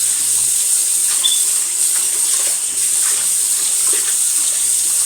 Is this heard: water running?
yes